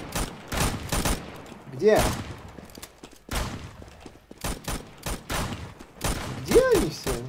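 Bursts of rapid gunfire crackle through a Roblox game in several sharp volleys with short gaps between them, close and loud, while a voice speaks briefly between the shots.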